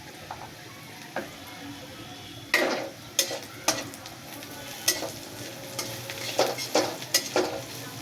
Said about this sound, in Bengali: হালকা একটু নেড়ে চিড়ে ভেজে নিলাম